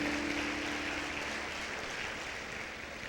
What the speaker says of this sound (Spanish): Démosle un aplauso al Rey de Gloria en esta noche.